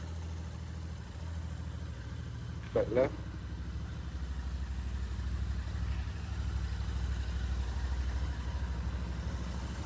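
A Royal Enfield motorcycle engine idles steadily with a low, even rumble during an oil check, while a person briefly speaks over it.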